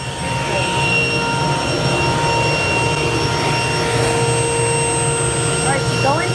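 A table saw cuts a board on a ZeroPlay sled, its motor a loud, steady whine and roar with tonal hum running throughout, while people talk under the noise.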